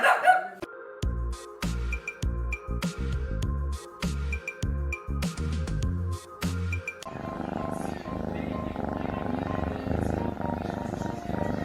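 A small three-legged dog barks in a quick series of sharp, loud yaps with short gaps between them, followed by a stretch of softer, steadier background noise.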